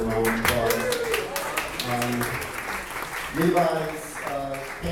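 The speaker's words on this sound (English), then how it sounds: "Please give a round of applause." Audience applause breaks out at a benefit event, a broad wash of clapping running under a voice speaking over a microphone throughout.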